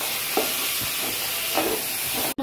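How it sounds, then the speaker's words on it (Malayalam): Tomatoes are sautéed in masala for rabbit biryani, with a steady sizzle throughout and a few soft stirring scrapes. A brief knock comes near the end. "തക്കാളി നന്നായി വെന്തുടഞ്ഞ് ഈ മസാലയിലോട്ട് പിടിക്കുന്ന സമയം വരെ ഒന്ന് വഴറ്റിയെടുക്കണം"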